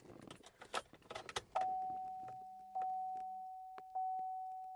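A truck's keys jangle and clatter for about a second and a half as the key is turned, then a steady electronic chime tone rings out, restarting in a few clear pulses.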